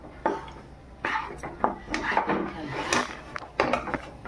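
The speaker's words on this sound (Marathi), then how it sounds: "हे बघा, व्यवस्थित असं खरपूस भाजून घेऊ आपण पिठाला, आणि ढवळतच राहायचं आहे आपल्याला खालून वरून" Ragi flour roasting in hot ghee in a pan over a low flame, stirred from bottom to top, giving repeated scraping and clinking spoon strokes against the pan in uneven bursts, fairly close, with no talk.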